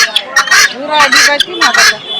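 Harsh, rhythmic guinea fowl calls repeat several times at close range, a bird squawking in short bursts amid faint chatter at a poultry market.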